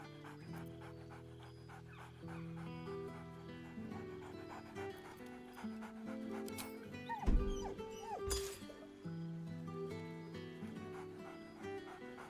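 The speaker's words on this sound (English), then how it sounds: "Scratch barks merrily in something like agreement." Dog in the video game Baldur's Gate 3 panting and yipping excitedly over sustained game music, with a louder burst of barking and rustle midway, moderately close.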